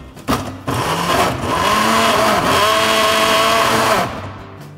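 A kitchen blender chops shallots and garlic for a curry paste, starting with a thump, then a loud close motor roar with shifting, labouring pitch for about four seconds before stopping.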